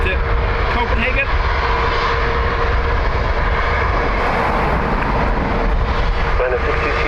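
An SAS airliner bound for Copenhagen roars at Dublin Airport, a loud, sustained jet engine rumble that fills the scene, with voices talking over it.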